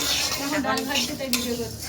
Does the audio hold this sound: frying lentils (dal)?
yes